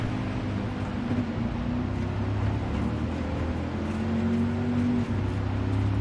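A Ford F-150 Raptor truck engine in the Gran Turismo Sport racing game drones with a loud, constant low hum throughout.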